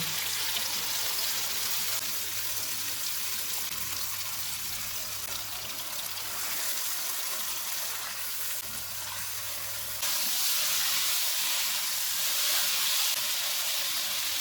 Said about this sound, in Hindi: ऑयल गर्म हो गया है, इसमें मैरिनेटेड चिकन डालेंगे।